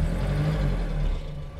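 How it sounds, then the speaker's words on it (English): A Citroen DS engine idles steadily with a low, close rumble, holding its level before easing off slightly toward the end. "give her a few revs"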